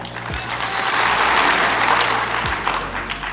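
An indoor audience at a lecture gathering claps together in a dense, steady round of applause that swells through the middle and then eases off, with no voices over it.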